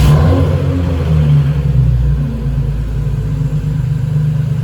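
A car's engine runs just after an oil change, a loud, close, low rumble that swells slightly at first and then settles into a steady idle, with no voices.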